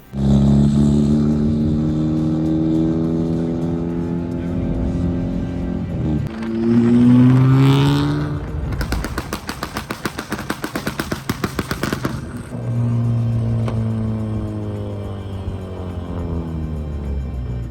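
Tuned Honda Civic FK8 (Type R) revving loudly up close, its exhaust firing a rapid burst of sharp pops and bangs mid-rev before settling back into a steady engine drone.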